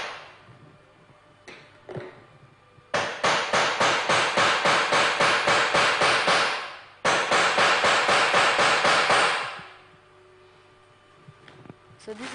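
A hammer strikes a metal hole puncher to pierce a hole in craft material, delivering two fast bursts of sharp, evenly spaced metallic blows, about a dozen each, loud and close, with a short pause between the runs.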